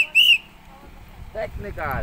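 A referee's whistle gives one sharp, loud shrill blast near the start of a football match at Love Lake in Al Qudra, and voices then talk over the quieter field sound.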